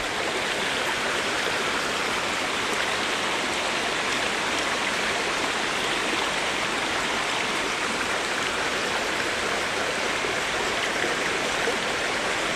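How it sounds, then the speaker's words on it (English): Morgan Brook, a mountain-fed stream in Connecticut, rushes in a constant, dense hiss of flowing water, steady and close with no voices or other sounds on top. "It's a mountain-fed stream"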